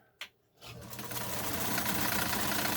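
A Montgomery Ward Signature sewing machine stitches fabric, starting after a single click and then building into a steady, fast mechanical whirring chatter that runs loud and close to the end.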